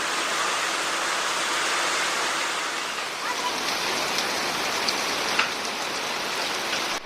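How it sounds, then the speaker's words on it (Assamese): Heavy rain pours steadily onto surfaces around a garage, a dense, loud, continuous hiss with occasional sharper drips and no pauses. "আৰু বৰষুণো একদম ধাম ধুমাই আহিছে"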